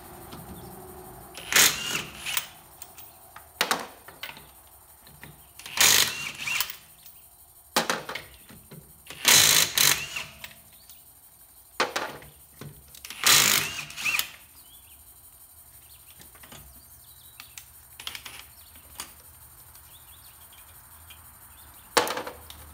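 Ridgid Octane impact wrench set to automatic mode removing lug nuts during a tire rotation, giving several sharp hammering bursts of one to two seconds separated by quiet gaps, fairly close and loud, no talking.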